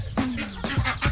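A few short clucks from chickens nearby, quick and irregular, with a bit of background noise.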